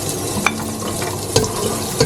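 Rapeseed oil sizzles in a pan, a loud, close, steady hiss with a few sharp crackles and pops breaking through at intervals.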